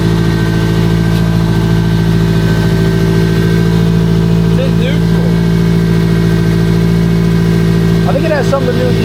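A car engine idles steadily with a low, even exhaust rumble throughout, while brief muffled voices surface now and then in the background.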